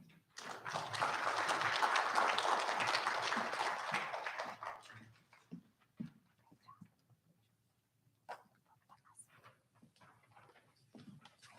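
Applause at a school district spelling bee, a burst of clapping that swells for about four seconds and then fades out, followed by scattered small knocks and quiet room noise.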